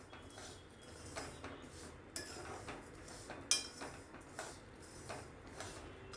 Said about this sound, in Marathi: भाजताना हे मिश्रण सतत ढवळत राहायचं आहे